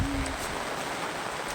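Heavy rain falling in a steady, dense hiss throughout, close and even in level, with no voices.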